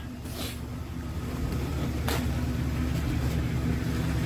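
A 2000 GMC Sierra 2500 HD two-wheel-drive pickup idling in drive with its rear wheels spinning off the ground, a steady low engine hum that builds slightly, with a few faint clicks and knocks.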